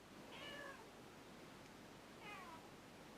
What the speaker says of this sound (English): it's going to be a soundtrack of Lulu meowing.